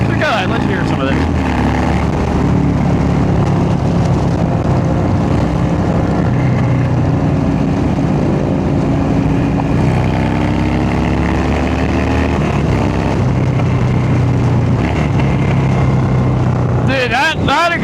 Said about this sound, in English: That exhaust it's just a wiki speed exhaust. That thing barks, brother.